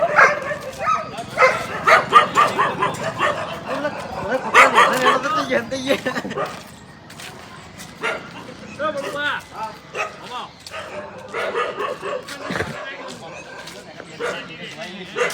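Several dogs bark, yip and whimper together on a village street in Patan, the sounds busy and overlapping with bursts loudest in the first half, while people talk throughout.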